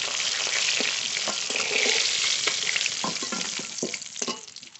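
Fish sizzles in hot oil for a tilapia and foli fish curry, a loud, steady hiss that fills the clip with a few sharper crackles and pops near the end, no voices.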